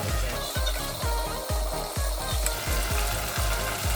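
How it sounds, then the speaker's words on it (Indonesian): Sambal frying in leftover oil from frying chicken spices, a dense, steady sizzle with rhythmic stirring scrapes about twice a second, close and continuous. "Ini aku gorengnya pakai minyak yang bekas goreng bumbu ayam ya."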